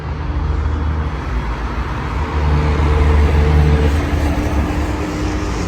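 A loud, steady tractor motor rumble swells as it passes close by, its engine drone continuous throughout with no talking.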